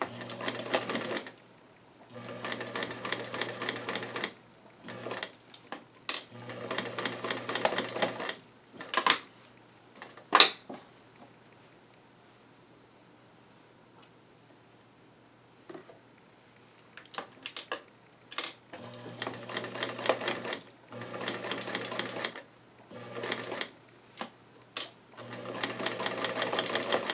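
A sewing machine stitches doll jeans pocket bags in repeated close bursts of rapid needle chatter, separated by pauses with clicks and a long quiet stretch in the middle before the stitching resumes.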